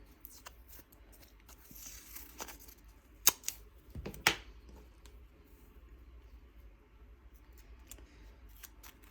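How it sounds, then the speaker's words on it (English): Tape pulled from a roll and pressed onto a table, a few sharp tearing and crackling bursts in the middle, otherwise quiet with faint background hiss. "we're going to take some tape, and we're going to tape one end to the table"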